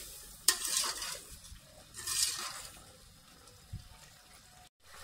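A spoon stirs salt and ground garam masala into a potato and pea mixture for pulao in a pressure cooker pot, giving a few scraping, rustling strokes with soft sizzling between them and a brief pause near the end.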